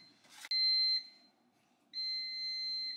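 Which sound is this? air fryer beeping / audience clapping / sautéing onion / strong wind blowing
air fryer beeping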